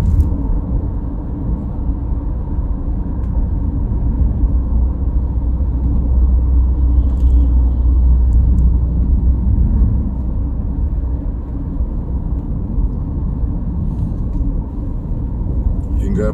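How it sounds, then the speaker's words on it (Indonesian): Heavy traffic on the Trans-Java toll road near Cipali, with many large trucks, buses and travel vans passing, gives a steady, loud, low rumble that stays dense and unbroken throughout. "Kendaraan masih cukup ramai, juga banyak kendaraan besar"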